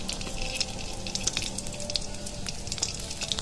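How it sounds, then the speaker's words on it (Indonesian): Sliced garlic and shallots fry in hot oil reused from frying tofu, giving a steady, close sizzle with scattered crackling pops throughout and no talking. "Masukkan irisan bawang putih dan bawang merah ke dalam minyak,"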